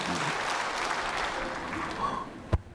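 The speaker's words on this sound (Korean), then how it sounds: "그래도 박수 치잖아요." A church congregation applauds during a sermon, a busy wash of clapping and murmuring voices that carries on for a couple of seconds before a sharp knock and a drop-off.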